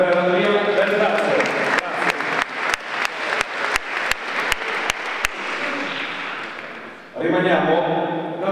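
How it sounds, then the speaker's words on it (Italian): Applause honoring two Italian cyclists at a sports awards gala, with dense clapping and a few sharp claps standing out before it fades and a speaker's voice resumes near the end. "Facciamo ancora un applauso per Marco Villa e per Andrea Bertazzo."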